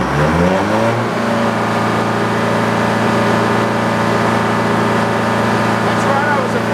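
A sawmill engine starts up and climbs into a loud, steady, revving roar, with its pitch rising over the first second and then holding strong and constant.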